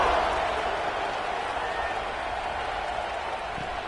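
Football stadium crowd during a college game between LSU and Tennessee, a dense, steady roar of cheering throughout, loud and sustained without breaks, with no clear talk standing out.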